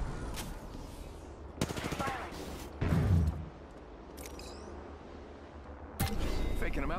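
Bursts of automatic gunfire in a battle royale match of Apex Legends, rapid clustered shots in separate volleys with a heavier impact in the middle, fairly distant and mixed with game noise.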